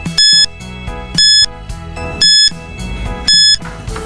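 A quiz countdown timer sounds four evenly spaced electronic beeps, roughly one per second, each a bright tone lasting about a quarter second, over soft background music.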